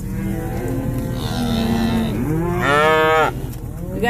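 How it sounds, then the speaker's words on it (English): Cattle moo loudly and repeatedly during a cattle drive on a Colorado road, a long low bellow followed by a stronger, higher call near the end, close by with no talk over them. "We got us a cattle drive."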